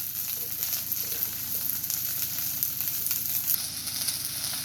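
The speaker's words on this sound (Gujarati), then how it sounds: "હવે અંદર ઓનિયન નાખીશું અને ઓનિયન સોટે કરીશું." Onion and garlic sauté in a pan, giving a steady close sizzle with faint occasional stirring and no pauses.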